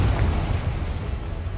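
A Confringo explosion spell goes off in Hogwarts Legacy, a deep booming blast with a low rumble that holds steady for under two seconds, fairly loud with no talking.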